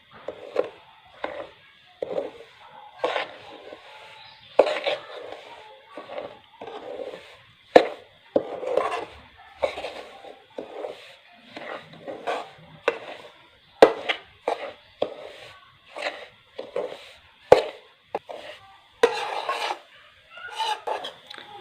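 Semolina being dry-roasted in a pan, with a spoon scraping and stirring in repeated rhythmic rasping strokes, close and fairly loud, no talking.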